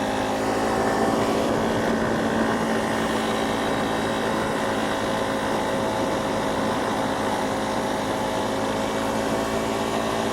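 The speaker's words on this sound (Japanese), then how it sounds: "きつい勾配でもエンジンは高回転域まで何らストレスなく回りきるといった感じ。" A Honda CRF250 Rally motorcycle revs high on a steep climb during a test ride, its engine holding a loud, sustained drone with steady tonal whine over broad wind rush, with no talking.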